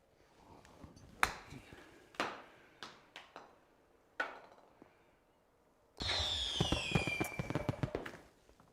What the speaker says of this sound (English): Sorry for the fireworks. It's probably pretty loud for y'all's ears.